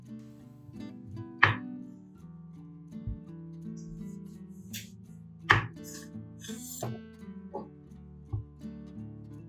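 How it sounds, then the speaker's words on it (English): A knife chops through an orange on a board, giving two sharp, close thunks several seconds apart with a softer knock near the end, and quiet handling sounds in between. "Cut off the top and bottom of the orange."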